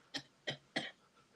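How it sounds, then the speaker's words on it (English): A person coughs three times in quick succession, short sharp bursts at close range against a quiet background, with a faint trailing sound after the last one. "I've been coughing like that for 2 days."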